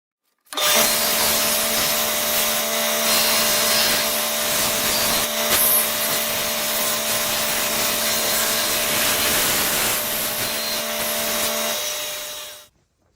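A power sander runs against a piece of wood, working close to a marked line, producing a loud, continuous whirring drone for about twelve seconds before it winds down and stops.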